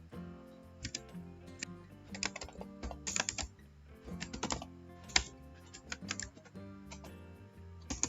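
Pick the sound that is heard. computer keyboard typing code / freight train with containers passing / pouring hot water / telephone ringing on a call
computer keyboard typing code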